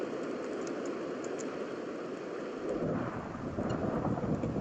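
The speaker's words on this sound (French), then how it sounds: "Et il pleut encore, sérieusement." Rain and thunder in a video game world, with continuous rain hiss under a low rumbling thunder that swells in the second half, steady and enveloping, with no talk.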